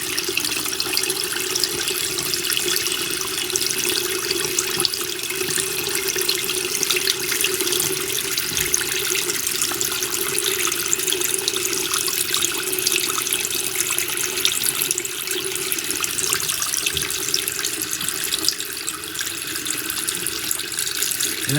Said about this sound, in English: And we'll just let that run a little bit until the water comes out clear.